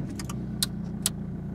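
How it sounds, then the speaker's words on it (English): Two crisp clicks from a car's headlight stalk as it is switched to dipped beam, spaced about half a second apart over a steady low engine idle inside the car. "we would need to turn the dipped headlights on, which is two clicks."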